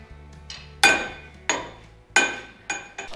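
A hammer strikes metal, likely in work on a rat rod wrecker's roll cage: four sharp, ringing blows spaced roughly a second apart, close and clear, with no talking.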